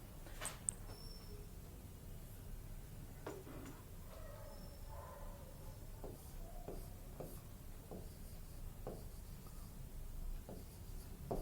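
Teacher writing a sentence on a board in a classroom, with scattered short taps and scratchy strokes spaced irregularly over a quiet hum, faint and close, with no talking.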